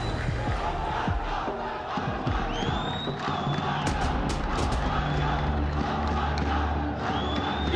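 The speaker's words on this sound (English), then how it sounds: "you can hear the crowd getting loud, whether it's boos, whether it's cheers" A large crowd at an esports football tournament's main stage roars continuously, with cheers, whoops and rising shouts of boos and cheers blending into a dense, loud arena din.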